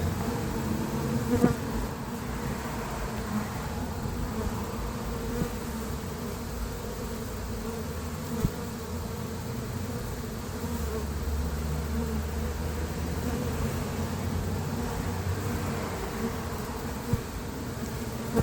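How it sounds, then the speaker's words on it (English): A dense, continuous buzz of many feral Africanized honeybees swarming close by in Lakeland, Florida, steady throughout with occasional louder passes of individual bees. "This is feral bees. They're Africanized, of course, and trying to take my head off."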